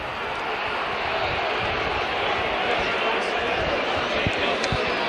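A rugby league crowd at a 1989 cup tie against Wakefield lets out a continuous, dense roar of disapproval after a heavy tackle, filling the whole stretch under and around the commentary.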